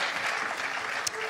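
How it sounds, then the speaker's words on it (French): An audience applauds a speaker at a business conference, brief steady clapping from a seated crowd with a faint murmur beneath it. "On peut t'applaudir"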